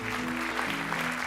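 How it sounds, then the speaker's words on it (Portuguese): Steady applause from a congregation at a church worship service, continuous and fairly loud, with sustained musical tones underneath. "Você pode aplaudir ao Senhor."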